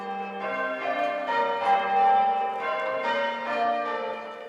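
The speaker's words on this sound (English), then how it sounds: "The bells will be heard all over the community." Church bells ring out for Armistice Day in a rhythmic sequence of overlapping, resonant tones, sounding steady and moderately distant with no voices.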